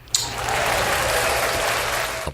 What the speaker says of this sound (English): Applause. I like that.